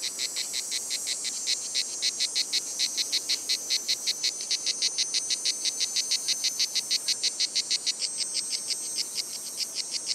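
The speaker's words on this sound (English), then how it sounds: "cicadas sing overhead, camouflaged on the branches of the trees" Cicadas singing from camouflaged perches in the trees of a Mediterranean olive grove in summer, a loud, steady, high-pitched pulsing buzz repeating rapidly and evenly throughout, close and unbroken.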